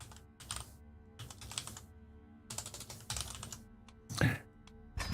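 Rapid typing on a computer keyboard during an online community war game, with bursts of clattering keystrokes separated by brief pauses, close and fairly loud with no talking.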